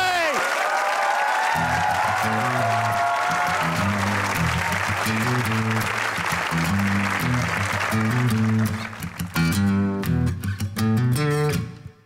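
A concert audience applauds and cheers to welcome a band, a sustained wash of crowd clapping laid over loud band music with steady bass and drum beats that swells before the song kicks in.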